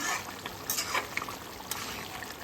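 A spoon stirs local chicken curry simmering uncovered in a pot, making faint, soft scrapes and a few light knocks over a quiet bubbling background.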